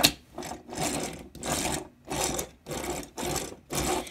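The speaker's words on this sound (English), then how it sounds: "as you can tell, the wheels do roll very nicely" Wheels of a toy drill tank, the Over Ligan Machine Robo Mugenbine figure in machine mode, roll back and forth across a surface in seven short rasping bursts with brief gaps, close and fairly quiet.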